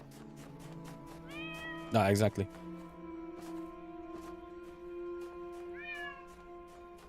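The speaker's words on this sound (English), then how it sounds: "We heard the meow." In the video game The Talos Principle Reawakened, a cat gives a couple of faint, distant meows. A steady hum and clicks run under them, and someone speaks briefly between the calls.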